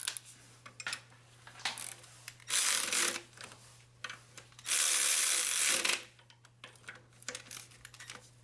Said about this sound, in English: we're gonna put these two 12mm bolts back on